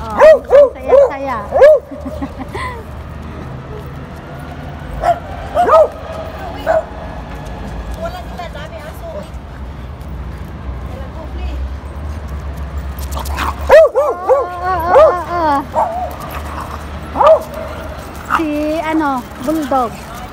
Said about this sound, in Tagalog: Ang sobra tong aso ko kaya.